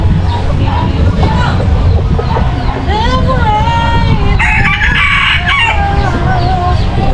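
Hungry chickens cluck close by while a rooster crows loudly over them, with constant low background noise and some faint voices.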